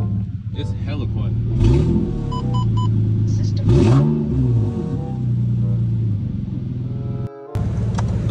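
An Infiniti G37 engine runs close by after an exhaust leak repair, a loud steady rumble rising into two sharp rev swells, with a person talking over it.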